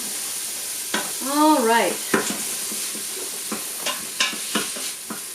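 Gizzards being stirred in a hot pan, a spoon scraping and clinking through several short strokes over a steady frying sizzle, with one brief stretch of rising metallic scraping; a voice speaks once near the start.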